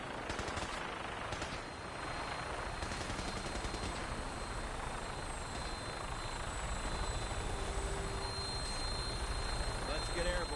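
Vertibird aircraft taking off in the video game Fallout 4, a continuous thudding rotor chop with rattling bursts like gunfire over it, and game voices talking throughout.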